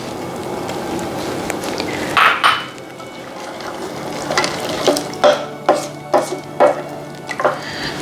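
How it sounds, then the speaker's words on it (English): Stock and peas go into a pot of biryani rice: a soft liquid pour and sizzle from about two seconds, then a run of distinct stirring scrapes and clinks against the pot, close and moderately loud, with no talk. "we're going to now add the stock. And we're going to add the peas."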